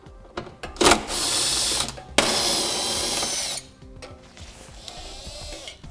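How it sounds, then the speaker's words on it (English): Rapid metallic clicking of a ratchet with a 12mm socket loosening bolts under a 2014 Infiniti, in two sustained bursts, close and sharp, with quiet pauses between. "to remove these 3 bolts here on the passenger side, we'll use a 12mm socket"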